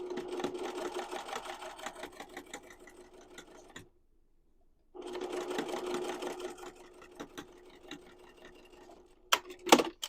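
A home sewing machine stitches along both sides of a duffle bag seam about 1/8 inch thick, running in two steady bursts with a short pause between, close and fairly loud, followed by a few sharp clicks.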